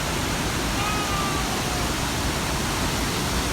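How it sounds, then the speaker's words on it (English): A rough waterfall: a constant, dense rush of broadband water noise filling the whole moment, steady and close, with no clear talk over it. "look how rough that water is"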